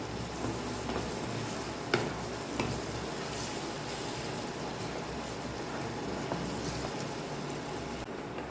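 Onions with salt sauté in a pan for a mushroom masala, giving an even, continuous frying sizzle broken by occasional soft stirring knocks. No one speaks.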